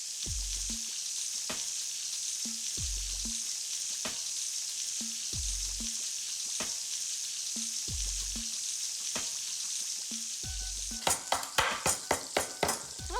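Food frying in a pan: a loud, steady sizzle runs throughout, broken by regular low thumps, then a quick run of clattering utensil taps toward the end, with no one talking.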